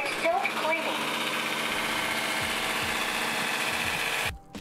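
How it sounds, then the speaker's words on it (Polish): An iLife W90 vacuum mop sits on its docking station during its self-cleaning cycle, rinsing the brush with clean water as it spins very fast. It makes a loud, steady whirring drone that holds evenly, then cuts off near the end. "Odkurzacz wykorzystuje czystą wodę do płukania szczotki, która w tym czasie wprawiana jest w bardzo szybkie obroty."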